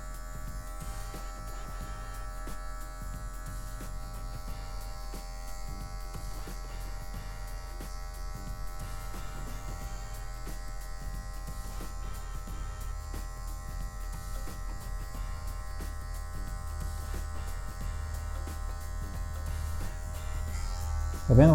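An electric hair clipper fitted with a number 1 guard hums and buzzes steadily and close while cutting hair, a constant motor drone with no pauses.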